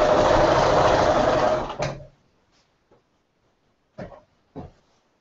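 A sewing machine runs steadily while stitching quilt pieces, a loud close whirring burst for about two seconds that stops abruptly, followed by a few soft clicks and handling knocks in near silence.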